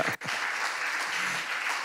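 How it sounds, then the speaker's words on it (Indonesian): Church congregation applauding God during a service, a brief sharp cut at the start and then an even, sustained wash of clapping from the gathered worshippers. "Tepuk tangan bagi Allah kita"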